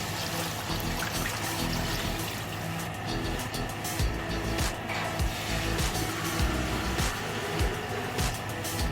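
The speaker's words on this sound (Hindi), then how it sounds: "मैंने पानी ऐड कर दिया इसके अंदर।" Water pours and splashes into a cooking pot holding beef, ginger and bay leaf for yakhni pulao, a continuous close gurgling stream with some clattering around it.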